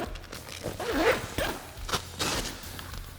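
A zipper on a SuperATV Primal soft cab enclosure for a Polaris RZR XP1000 being zipped closed, a few quick close rasping pulls in a row with brief pauses between them, no talking.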